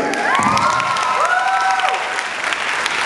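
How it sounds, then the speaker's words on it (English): A crowd claps and cheers after a shamisen performance, with a few high whoops and shouts rising over dense, loud, sustained applause. "Let's treat them well with one more round of applause."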